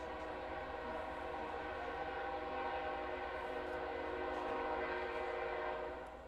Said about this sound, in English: You get the sounds of the East Memphis train in the background.